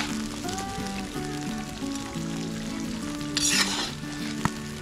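Vegetables sizzle steadily in a kazan cauldron outdoors, a close, even crackle of frying with faint stirring and a brief louder burst of hiss near the end.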